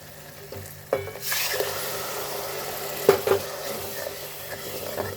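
Tomato paste with turmeric fries in hot oil, giving a steady, close sizzle while a spoon stirs and scrapes the pan, with a few sharp clinks against the metal.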